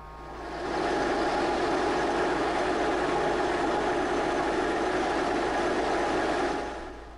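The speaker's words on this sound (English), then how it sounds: "when the engine comes up to about 3400 RPM, the governor kicks in and pulls it back and holds it at about 3200 RPM" Raptor prototype engine on a thrust test stand, its governor holding it near 3200 RPM, giving a steady, loud, droning roar that swells in, holds even for several seconds and then tapers off.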